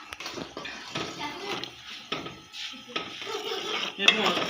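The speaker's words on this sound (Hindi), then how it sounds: "ठीक है, मैं चमचा हिला रही हूँ" A spoon stirring custard in a pot, with repeated scraping and clinking against the metal at an uneven rhythm, fairly close, and a voice talking at times.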